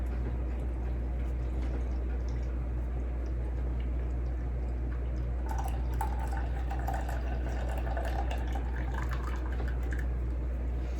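Beaten eggs poured from a measuring cup, with a finger held at the spout to hold back the foam; a soft, steady liquid trickle over a constant low hum, with faint splashing toward the end and no speech.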